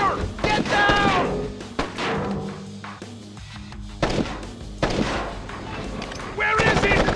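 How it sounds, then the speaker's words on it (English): Gunfire in the stealth game Splinter Cell Chaos Theory: a series of loud, sharp shots and heavy thuds cluster at the start, midway and near the end, with game voices talking between bursts. "Incoming fire! Get down!"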